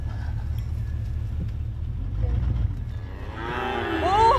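Cattle lowing near a feed trough on a Florida farm, a drawn-out moo rising near the end over a steady low engine rumble from a nearby vehicle.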